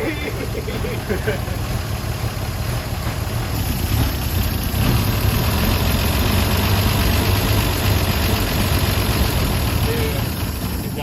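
A 1953 Chevy 3100 pickup engine, unstarted for over 40 years, idles roughly after starting, a loud, continuous rumbling chug with uneven knocking, heard close up with voices faintly over it.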